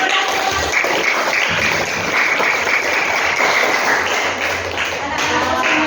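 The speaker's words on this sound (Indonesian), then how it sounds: "Oke, tepuk tangan buat kita." A room of vocational school students applauds together in a long, continuous round of dense, loud clapping.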